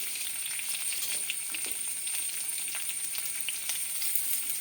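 Tomatoes hit a hot frying pan and sizzle steadily, a dense crackling hiss with small pops that keeps going without a break, close and fairly loud, with no talking over it.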